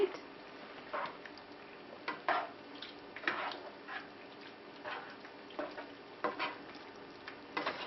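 Tomato or pizza sauce being mixed into a zucchini dish, a spoon scraping and sloshing through the thick mixture in a pot in irregular, fairly quiet bursts, with a faint steady sizzle beneath and no talking.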